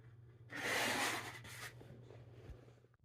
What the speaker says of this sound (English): once it's creased or smashed all the way along that line, once you crease it, see, it'll fold nice and smooth